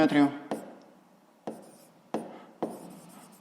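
Pen strokes writing out a sixth-grade math solution by hand, a few sharp taps and scratches spaced about a second apart, close and fairly quiet after a brief voice at the start.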